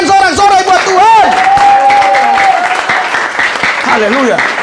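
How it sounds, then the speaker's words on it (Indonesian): A church congregation applauds and cheers in praise of God, a dense, sustained wash of clapping and voices that fills the whole stretch, with a loud sung or shouted tone rising above the crowd early on. "Berikan sorak-sorai buat Tuhan."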